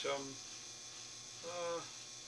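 Milling machine idling at 500 before boring a hole in solid stock, giving a steady electric hum with a faint whine that swells briefly twice.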